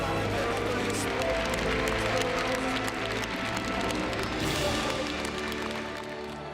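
A church congregation at a Korean revival gathering applauds, a dense wash of clapping that holds fairly steady before gradually fading, with faint background murmur underneath.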